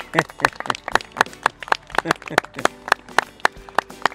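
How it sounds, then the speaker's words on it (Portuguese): An audience at a talk on the Eucharist claps in a burst of sharp, irregular hand claps, fairly close and lively, with some chatter underneath. "Podemos dar uma salva de palmas a todos."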